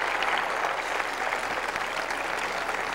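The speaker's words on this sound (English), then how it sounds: "The crowd applauding." Sustained applause from a large crowd after a Seneca Falls performance of Amazing Grace, even and continuous clapping with no voices standing out.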